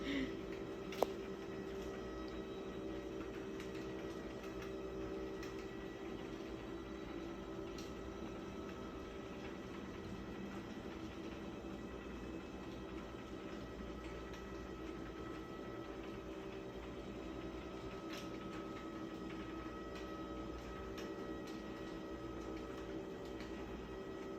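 Body scanning machine running through a scan, a steady low mechanical hum and drone with faint periodic ticks, continuous and even throughout with no talking.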